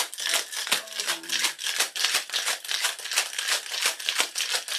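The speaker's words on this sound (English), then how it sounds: "Shake with ice." A cocktail is shaken hard with ice in a shaker, giving a loud, fast, steady rhythm of sharp rattling bursts with no voices over it.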